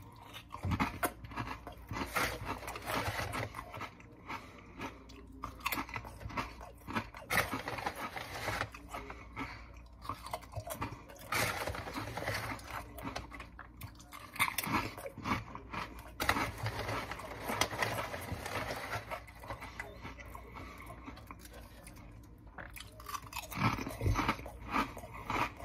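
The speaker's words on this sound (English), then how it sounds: "It's mostly just a really crunchy chip, just a kettle cooked chip." Someone chews crunchy kettle-cooked crinkle potato chips flavored with rosemary and feta. The crisp crunching and biting carry on steadily and close for the whole stretch, with no talking.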